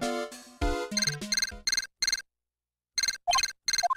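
A receiver ringing in Phoenix Wright: Ace Attorney – Justice for All, bright repeated electronic trill bursts in quick clusters, loud and close, with a pause before two more rings.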